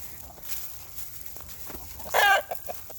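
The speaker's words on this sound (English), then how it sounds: "Some of these roosters are just finally starting to get to crow" Rough, short crowing burst from a young rooster, strained and uneven, rising over quiet background clucks and faint farmyard noise.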